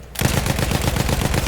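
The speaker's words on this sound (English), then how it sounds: "Machine gun." A machine gun in Battlefield 1 bursts into loud, close, rapid automatic fire after a brief quiet start, the shots coming in an even, fast rhythm.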